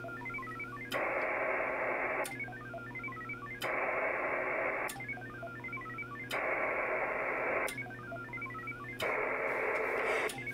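VARA HF modem tones sent over an HF radio while trying to connect: alternating bursts of dense warbling data and trills of stepped beeping tones, repeating every couple of seconds in a steady cycle, with no voices.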